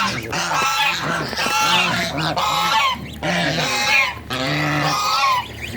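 Loud, repeated nasal quacking and honking from a group of domestic ducks close by, calls overlapping in bursts throughout.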